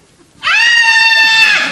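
A person imitates a primal scream therapy scream. After a moment of near silence comes a single loud, sustained, wailing cry held for over a second.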